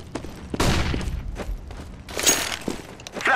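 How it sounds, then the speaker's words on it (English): A flashbang grenade in Counter-Strike: Global Offensive, thrown and going off with loud, sharp bursts and thuds, followed by a second blast and scattered gunfire-like impacts nearby. "I'm throwing a flashbang."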